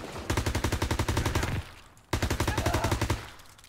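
Rapid bursts of MP40 submachine-gun fire in the Call of Duty WWII campaign, loud and close, two long strings of fast evenly spaced shots separated by a brief pause.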